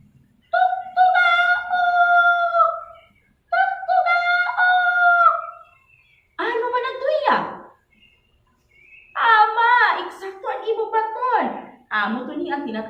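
A human voice imitates a rooster's crow several times in Waray, with loud drawn-out calls separated by short pauses.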